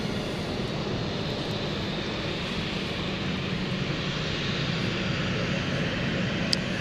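An airplane takes off from runway 09 at London City Airport on a misty day. A steady, loud, broadband engine roar holds throughout, with no talk.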